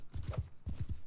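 Horse hooves from Mount & Blade 2 clop in two quick bursts of three heavy thuds each, close and loud, with a short gap between the bursts.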